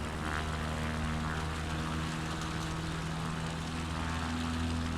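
Propeller aircraft climbing out just after takeoff in Microsoft Flight Simulator 2024, over Brunswick County: a steady, loud engine drone with a low prop hum, continuous throughout with no talking.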